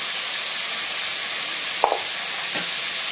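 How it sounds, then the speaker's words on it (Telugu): Sambar vegetables frying and being stirred in a pan with turmeric added, a constant sizzling hiss with a couple of brief scraping clinks of the spoon. "బాగా కలిపేసుకొని కొంచెం పసుపు వేసుకుందాం."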